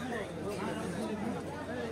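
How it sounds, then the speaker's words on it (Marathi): Devotees crowd together at the Narayanpur Datta Jayanti festival near Pune, a steady dense babble of many voices chattering close by without pause. "ही बघा गर्दी"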